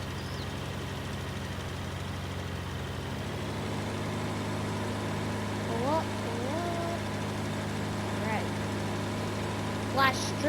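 A small tractor engine runs steadily in an Alpine field, a constant low drone throughout with a few faint higher squeaks near the end; no speech is heard.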